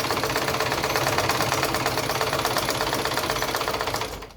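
A sewing machine stitches a welt pocket with a steady, fast mechanical chatter, close and continuous for several seconds before slowing to a stop.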